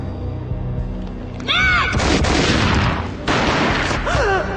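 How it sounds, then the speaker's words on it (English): Two loud bursts of gunfire in the video game Max Payne Mobile, each a sharp blast trailing into a rumbling roar, with whooshing tones around them. "A gunshot boomed and she fell down in slow motion."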